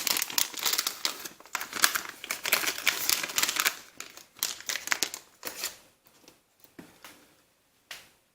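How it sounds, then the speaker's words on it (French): Plastic packaging crinkling and tearing as a pistol loading indicator is unpacked, with a busy stretch of close rustles and crackles that thins into a few isolated clicks and crinkles. "Je vais déballer cet indicateur de chargement."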